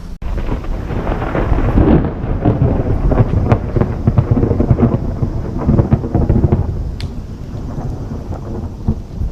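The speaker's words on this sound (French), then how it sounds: "Là, je pense qu'il va y avoir de l'orage." Loud, sustained rumbling thunder rolls through a thunderstorm at a temple shrine in Japan, rain falling steadily underneath, with a sharper crack near the end.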